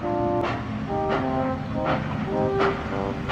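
A toy steam locomotive puffs slowly through a dark mine tunnel, with soft, rhythmic chuffs about every three-quarters of a second over a steady droning tone.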